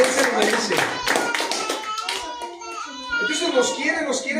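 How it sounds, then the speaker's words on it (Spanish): A church congregation breaks into quick, scattered applause that fades after a couple of seconds, with voices, including a child's, talking over and after the clapping. "¿Alguien puede dar un aplauso al Señor Jesucristo?"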